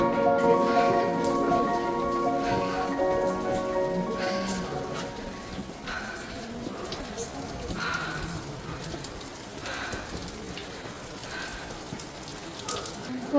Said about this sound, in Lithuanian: Jau dabar lyja nuo krioklio.